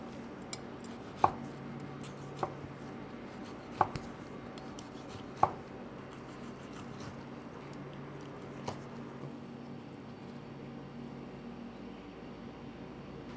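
A knife slices through a rested cooked steak on a board, with a handful of sharp, separate cutting taps spaced a second or two apart over quiet background, close and fairly soft.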